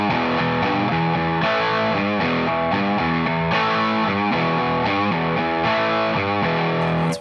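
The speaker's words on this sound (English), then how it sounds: "It's really just a blues riff, but with tons more distortion and a different feel." A heavily distorted electric guitar plays a blues-based riff, with loud chugging chords and short rhythmic phrases repeating throughout and no voice over it.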